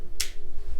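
Mr. Gasket 3740G magnetic cable tie snapping onto a metal vise, one sharp click near the start, then quiet handling noise.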